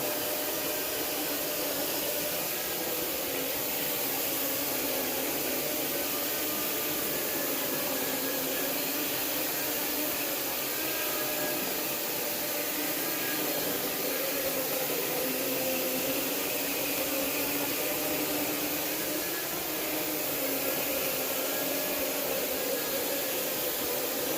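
An Ericlean E100 industrial floor scrubber runs with a steady, continuous whir and hiss that holds at an even level throughout, with no talking.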